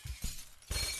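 Glass shatters in the video game Happy Wheels, with a few quick crashing bursts in under a second, ending in one bright, loud smash.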